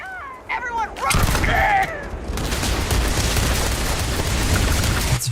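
Gunfire in the sci-fi video game Starfield: a dense, sustained barrage of close, loud shots that hammer on continuously, with brief tonal game effects at the start.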